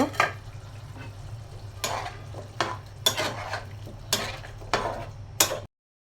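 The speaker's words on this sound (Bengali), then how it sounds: "এখন শালগম আর আলুটা দিয়ে কষিয়ে নেব" Beef with turnip and potato being stirred and sautéed in a pan, a spoon scraping and clattering against the metal in several separate strokes over a low steady sizzle, ending abruptly.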